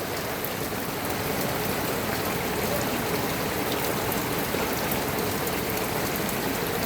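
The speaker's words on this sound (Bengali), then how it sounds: "দেখেন প্রচুর বৃষ্টি হইতেছে, বৃষ্টি।" Heavy rain pours steadily in the streets of Al Buraimi, Oman, a dense, even hiss of drops hitting surfaces and running water that holds constant throughout with no voices.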